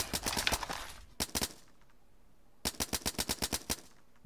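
MP5 submachine gun fire in the survival game Rust crackles in three rapid bursts of sharp shots, a long volley, a short cluster, then another long rhythmic burst, fairly quiet and distant.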